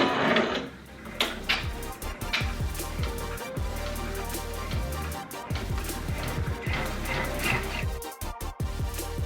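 An embroidery machine stitching a design onto a sweatshirt, with rapid mechanical needle chatter and whirring that starts after a brief pause and runs steadily, close and fairly quiet.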